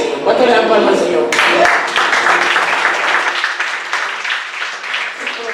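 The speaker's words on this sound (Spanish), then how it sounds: "¿Cuánto le dan palmas al Señor?" Congregation clapping in church during a Spanish-language sermon, a dense burst of hand claps that swells after the first second and continues steadily, with a voice speaking over it at the start.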